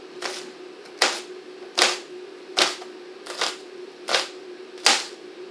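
A knife chops through an onion on a cutting board in six crisp, evenly spaced strokes, close and clear with no talking.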